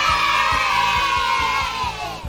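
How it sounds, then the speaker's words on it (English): A group of grade six schoolchildren gives a loud, sustained cheer that fades slightly at the end, with a rhythmic low thumping beat running underneath. "Can I have the loudest cheer?"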